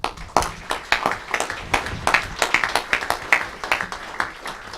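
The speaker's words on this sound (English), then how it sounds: "Let's clap for him." An audience at a township council meeting claps steadily for several seconds, a close, even patter of many hands with no talking over it.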